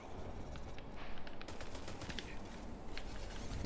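Sustained rapid automatic gunfire in the video game Destiny 2, a dense rattle of shots continuing throughout at moderate level with no voices.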